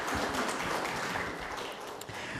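A dense, continuous wash of applause from a meeting audience, many hands clapping at once and filling the room, steady throughout with no talk over it.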